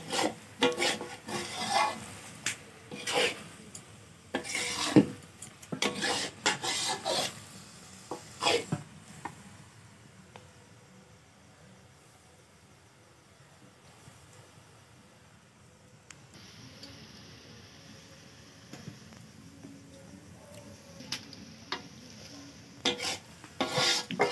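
Curry being stirred in a pan until nearly dry, heard as repeated scraping and rasping strokes of a spoon against the pan, loud in bursts with a quieter stretch midway and soft background hiss.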